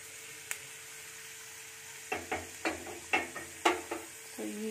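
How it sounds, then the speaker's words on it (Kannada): Garlic frying in a pan until brownish, with a steady low sizzle and a series of short scraping stir strokes clustered toward the end, close and moderately loud with no talk. "ಬೆಳ್ಳುಳ್ಳಿ ಬ್ರೌನಿಷ್ ಆಗೋವರೆಗೂ ಫುಲ್ ಅದನ್ನು ಸ್ವಲ್ಪ ಫ್ರೈ ಮಾಡೋಣ"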